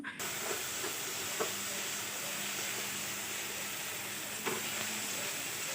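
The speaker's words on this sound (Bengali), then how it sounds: "এখন আমি মশলাটাকে ভাজছি খুব ভালোভাবে মশলাটাকে ভেজে নেব" Masala spice paste with salt and turmeric sizzles and fries steadily in a pan of oil for a village-style chicken curry, with a constant close hiss, occasional stirring clicks and no talk.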